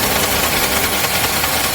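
Tata Nexon petrol engine running with an abnormal, uneven sound, a steady close mechanical drone with knocking texture throughout, no talk.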